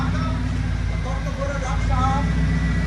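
A supercharged car engine idles steadily with a low, throbbing rumble, a faint blower whine and slight surge on top, with people talking over it.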